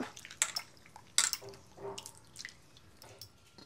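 Fish being rinsed by hand in a bowl of water, with scattered splashes and drips at irregular moments, quiet and close, with no talking.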